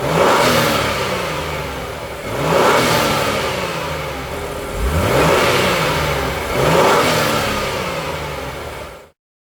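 An Acura MDX Type-S with an HPS intake revs up loudly several times, each rise in engine tone falling back before the next, with no one speaking before the sound cuts off abruptly.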